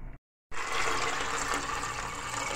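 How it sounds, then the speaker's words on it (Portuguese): Water pours into a cooking pan of corn for mucunzá, a steady rushing splash that starts after a brief silence and continues close and fairly loud. "Vou botar na panela e vou botar água pra cozinhar."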